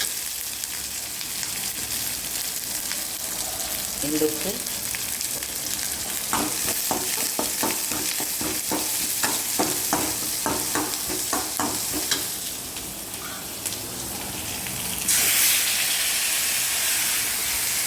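Steady sizzling and crackling of carrots and beans frying in hot oil for tempering, with stirring scrapes and a brief spoken word.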